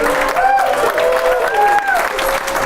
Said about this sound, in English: can we all get a round of applause?